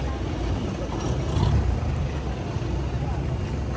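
A motorboat's motor drones steadily under heavy wind rumble on Tinipak River, with voices faintly in the background.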